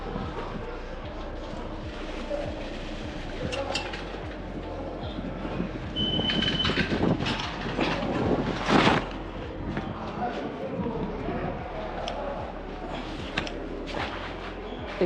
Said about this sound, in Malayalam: ഇതാണ് ഇപ്പോൾ നമ്മളെ ബനിഹാലിലെ റെയിൽവേ സ്റ്റേഷൻ.